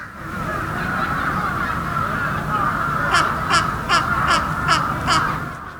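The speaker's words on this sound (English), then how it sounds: "Just sit here and listen for a second how many crows you can hear." Crows in Yoyogi Park give a series of about six loud, evenly spaced caws toward the end, over a steady outdoor background hum of the park.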